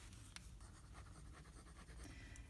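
Jinhao 65 fountain pen nib scratching across paper, a close, faint, continuous scratchy rasp with small ticks and strokes, heard alone.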